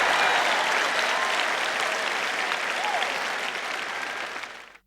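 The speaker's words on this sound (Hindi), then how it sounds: "यदि आपको तालियां बजानी है तो पूरे उत्साह से बजाएं" Enthusiastic audience applause at a talk, dense continuous clapping from a large crowd held steady for several seconds before stopping abruptly, with no voices over it.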